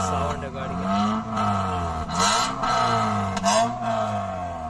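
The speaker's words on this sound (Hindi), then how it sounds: "गाड़ी का साउंड मैंने आप लोग से करवाया।" A 2012 Toyota Corolla GLi engine revs up and settles in repeated swells, loud and close, with someone talking over it.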